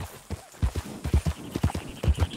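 Horse hooves clip-clop in a steady, fairly close walking rhythm in the Red Dead Redemption 2 video game, with a faint whinny mixed in and no talking.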